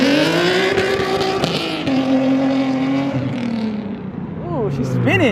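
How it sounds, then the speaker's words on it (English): A loud, dyno-tuned Nissan 370Z engine roars past close by, its pitch dropping as it goes, then revs sharply a few times while people talk in the background. "We're gonna see David do a couple of little flybys now that he's dyno tuned."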